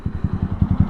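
A Lifan KPR200 motorcycle engine idles steadily nearby with the kickstand down, giving a low, even pulsing thrum throughout with no voices.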